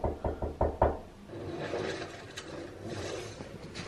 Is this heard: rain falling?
no